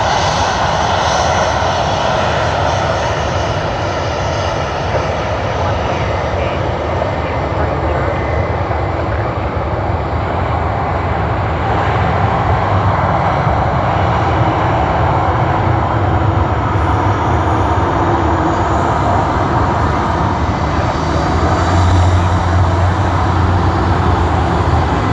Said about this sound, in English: Sydney to Brisbane service on Virgin Australia 737